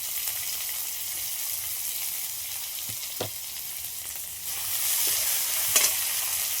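Chopped green chilli and onion sizzling in hot oil, a close, steady hiss that swells louder toward the end, punctuated by a few sharp pops and a stirring knock, with no voices.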